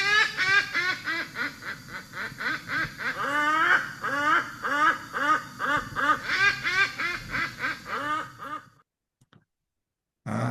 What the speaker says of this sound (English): And then a huge profusion of bird life.